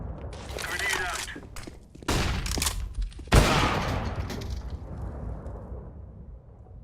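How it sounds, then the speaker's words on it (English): A grenade explodes in the Counter-Strike video game, a sharp loud blast followed by a rumbling decay, amid gunfire and player voice chat. "Grenade out."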